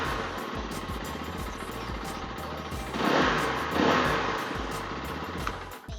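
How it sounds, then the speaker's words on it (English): A car engine runs steadily after a fresh oil change, then is revved twice in quick surges before settling back, loud and close with no talk. "A couple of revs gets it going."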